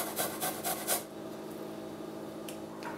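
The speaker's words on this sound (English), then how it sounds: "crush the garlic. And I like to use my microplane grater for this" Garlic grated on a microplane grater gives about five quick, bright rasping strokes in the first second, followed by quieter low background hum.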